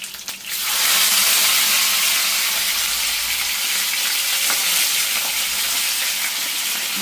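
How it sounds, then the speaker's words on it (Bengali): A whole onion and a whole tomato sizzle in hot oil, the loud, dense crackling hiss rising sharply after the first second and holding steady with a few faint pops. "একটু ভেজে নিচ্ছি"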